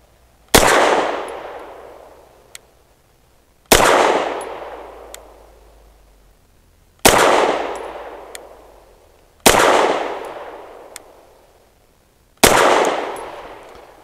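Five loud pistol shots from a BUL M-5 firing Fiocchi 115 grain rounds, each a sharp crack with a ringing steel-target clang, spaced about three seconds apart with decaying tails; one faint extra ping follows the first shot.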